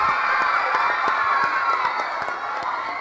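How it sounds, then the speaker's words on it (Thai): A school audience applauds and cheers for the lead actress after a Thai classical drama performance at a girls' school, with steady crowd noise, scattered claps and shouting voices blending into one sustained wash. "ขอเสียงปรบมือให้กับนางเอกของเรา"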